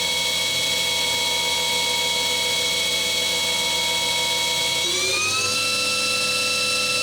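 A Cincinnati Milacron Arrow 500 vertical machining center spindle runs at 5,000 RPM with a steady high-pitched whine, then its tones shift upward near the end as the speed changes. No voices.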